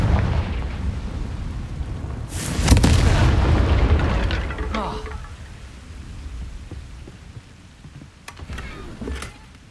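A Confringo explosion spell in the video game Hogwarts Legacy, a loud booming burst that rumbles and fades, followed later by quieter crackling blasts.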